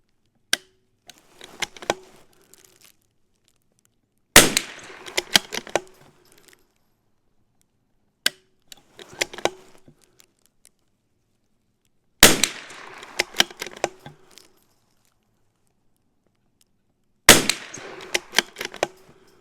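A CZ 457 rifle with a firing pin issue being fired outdoors, with sharp isolated cracks spaced several seconds apart, each followed by a scatter of smaller clicks and rattles, loud and close, with no talk.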